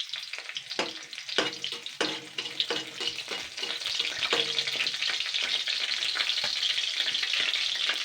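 Crushed garlic and green chillies stir-fry in a pan with a steady, close sizzle. A few sharp spatula clacks against the pan come early, and the frying then settles into a dense, even hiss.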